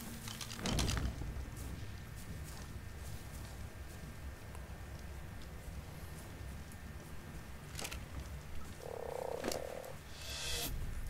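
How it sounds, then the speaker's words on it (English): Frog croaking in the video game ARK Survival Evolved, a low steady croak running under soft game ambience and faint clicking, with no talking. "I got a frog."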